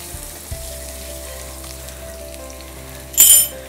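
Crushed garlic and asafoetida hit hot oil in a pan, giving a steady soft sizzle with a brief louder hiss near the end; no one speaks.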